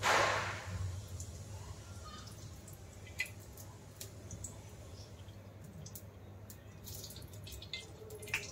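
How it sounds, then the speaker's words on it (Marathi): Cooking oil pours into a pan for Khandeshi sev bhaji, a brief close liquid rush at the start followed by faint scattered drips and small clicks in a quiet kitchen. "आता आपण तेल टाकूया।"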